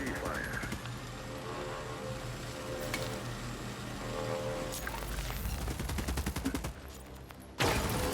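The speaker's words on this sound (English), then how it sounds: "Even their armor won't stand a chance against PDC fire." PDC gunfire in the video game The Expanse: Osiris Reborn, a rapid rattling stream of automatic shots under voices talking, rising in intensity toward the end before one loud burst.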